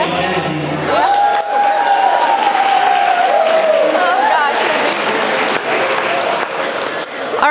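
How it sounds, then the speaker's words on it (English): Wedding reception guests give a round of applause for the maids of honor, sustained clapping with a few whoops, and a loud whistle-like tone rising early and holding across the middle. "please a round of applause for Taylor and Kenzie"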